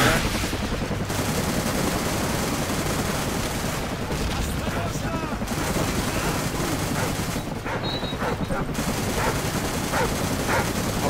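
Call of Duty Modern Warfare gameplay: a dog barks among dense, continuous gunfire and bursts of automatic weapons, loud and busy throughout.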